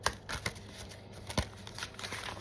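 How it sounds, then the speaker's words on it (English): A deck of cards is shuffled close up: quiet, rapid riffling flutters and soft snaps in a short irregular burst, with no talk. "my body just reached for the cards and I started shuffling"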